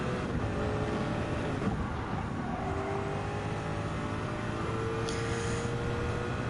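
Racing car engine in Gran Turismo 7 roars at a sustained high pitch, revving hard through a few gear changes during a lap around turns 3 to 5, loud and continuous with no voices.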